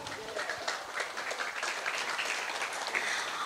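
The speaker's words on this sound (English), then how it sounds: "Please give a round of applause" Steady crowd applause fills the room at the opening ceremony of a portraiture exhibition at a museum, dense overlapping claps at even loudness with a faint murmur underneath.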